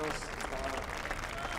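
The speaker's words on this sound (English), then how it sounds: "That applause is as much for Marco as it is for Casey Stoner." A crowd applauding at the 2011 Valencia MotoGP race, a faint, distant wash of clapping and cheering, continuous and diffuse, with a commentator's voice over it.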